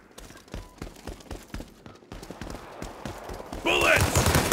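Rapid gunfire in a World War 3 video game battle, with sharp automatic bursts and single shots crackling in quick rhythm, growing denser and louder toward the end with shouting voices mixed in.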